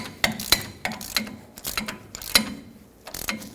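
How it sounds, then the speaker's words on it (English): A ratchet wrench tightens a ball joint stud on the front axle of a 2011-2016 Ford F-350. It gives a series of sharp metallic clicks in short uneven bursts, close and clear with no talking. "Put a little bit of pressure on it, and start tightening again."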